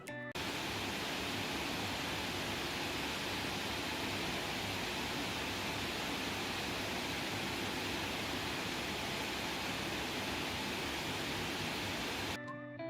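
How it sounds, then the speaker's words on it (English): GPU rigs in an apartment crypto mining farm run with a steady, dense rush of fan noise, heard from about five feet away and unchanging from start to finish. "Now about 5 feet away from my mining farm, the sound is not too bad."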